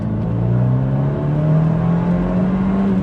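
An Abarth 124 GT's 1.4-litre turbocharged engine drones steadily and climbs slightly in pitch, a close, continuous turbocharged hum with no voices.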